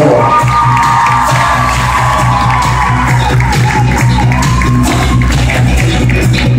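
Wedding guests clap and cheer as a bridesmaid and groomsman of the bridal party enter, a loud, steady crowd roar with whoops, under a faint voice and a continuous low musical hum.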